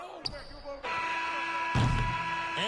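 End-of-period buzzer sounding in an NBA 2K basketball game, a long sustained electronic tone that rings on after ball bounces and sneaker squeaks, with the crowd and commentary rising behind it.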